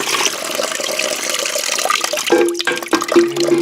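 Water drains and gurgles out of a toilet tank while its fill valve is being replaced, starting as a steady splashing rush, then breaking into louder, uneven glugs and drips close by.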